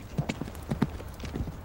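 Horse hooves clip-clop in an irregular rapid rhythm as a Norman-style cavalry rider with a kite shield turns away, several distinct muffled thuds close by over about two seconds.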